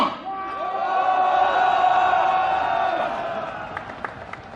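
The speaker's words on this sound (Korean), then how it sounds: "뜨거운 함성 한번 부탁드리겠습니다" A large crowd at a doctors' street rally shouts and cheers in one swelling roar that peaks and fades over a few seconds, ending with a few sharp claps or slams.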